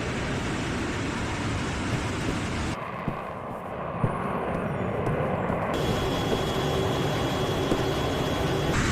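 A Su-34 military jet during an air strike, heard as a loud, continuous roar of jet engine noise that shifts in tone partway through, with a few faint thuds, and no talk.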